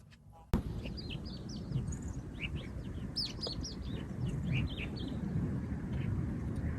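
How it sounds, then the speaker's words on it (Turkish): An unusual crested bird calls with short, repeated high chirps over steady broadband noise, somewhere outdoors by the sea, following a sharp click at the start. "Tepesinde ibibik var Değişik bir kuş bu ha."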